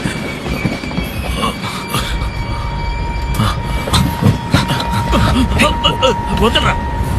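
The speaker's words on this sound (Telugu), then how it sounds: "ట్రైన్ స్లో అవుతుందండి." A train slows down on the rails, its wheels clattering and squealing in a steady rumble while people talk over the noise.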